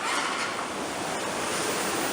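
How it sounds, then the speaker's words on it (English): Water at a hot spring in Armenia, heard at night as a steady, continuous rushing and splashing wash that stays loud and even throughout, with no voices. "Hot springs in Armenia."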